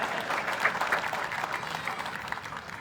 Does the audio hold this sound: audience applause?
yes